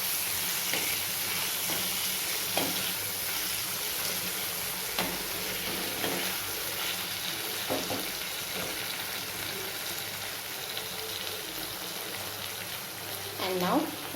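Ginger garlic paste and soya chunks fry in a pan with a steady hiss, broken by occasional soft stirring scrapes and clinks, and a louder scrape at the end.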